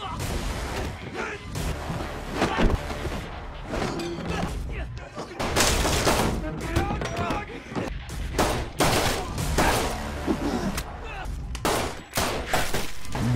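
Gunfire in a prison action film fight scene, as a man under fire takes cover and shoots back: dense, loud volleys of shots and bursts with booms and whooshes, near-continuous over music and effects.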